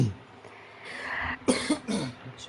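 A person coughing and choking in a series of sharp, harsh coughs and throat-clearing bursts, close and fairly loud, a few in quick succession after a quieter rasping start.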